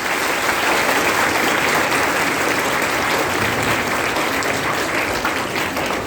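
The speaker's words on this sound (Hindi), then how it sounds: "जोरदार तालियां" Loud, sustained applause from a large audience at a talk show event, dense and steady clapping throughout without any break.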